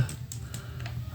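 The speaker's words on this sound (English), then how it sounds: "you type the first bank manually" Keys on a computer keyboard are tapped in a short, quiet run of light clicks over a low background hum.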